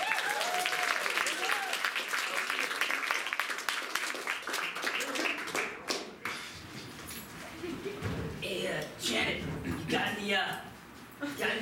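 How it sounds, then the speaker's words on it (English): An audience claps for a guest at the end of a talk show segment. The clapping is close and fairly loud at first, then thins out and gives way to scattered thumps and talking. "Everyone have applause for her."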